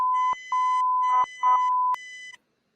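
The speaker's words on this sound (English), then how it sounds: "That's a straight bleep." A censor bleep, a steady electronic tone in broken segments with short gaps and brief noisy interruptions, loud and clear with no talking over it.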